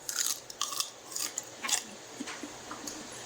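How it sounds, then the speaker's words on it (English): Raw garlic clove chewed up close, with wet, crunchy bites and squishy mastication in a quick irregular rhythm, fairly quiet and with no talking. "Just chewing this, get 1 garlic clove"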